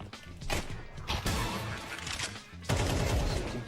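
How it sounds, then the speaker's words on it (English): AK-47 gunfire in Counter-Strike 2 sounds in loud, close bursts of rapid shots, with a longer burst near the end and crashing impacts in between. "if you shoot the gun in the right spot"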